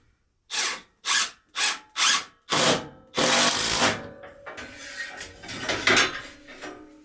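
Several short bursts of a power drill whirring, five quick pulses then a longer grinding run, followed by clattering and scraping noises.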